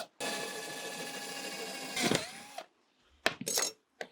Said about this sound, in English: we're just going to drill a hole in a bone here so we can hang it